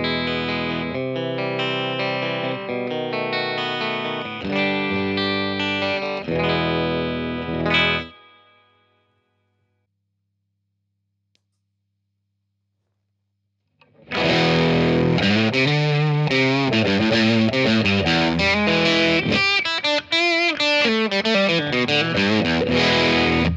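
An electric guitar runs through a Macmull T-Classic straight into an old Silverface Twin Reverb amp, with loud ringing chords and notes, a pause of near silence in the middle, then a fuller, busier passage of strummed chords and lead lines.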